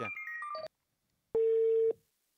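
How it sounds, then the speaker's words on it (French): A phone dials a contact during a game, with a short run of synthetic tones followed by a pause and then one steady beep of about half a second. "Communication avec le contact d'Eric, s'il te plaît"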